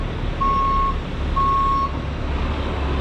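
Two long, steady reversing beeps from trucks arriving at a home demolition site in southern Indiana, one of them a hook truck, sounding fairly near over a constant low rumble of diesel engines.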